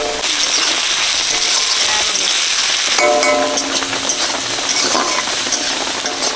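Chopped onions go into hot oil left from frying bhetki fish and set up a loud, continuous crackling sizzle close by, with a fresh burst partway through and no talking.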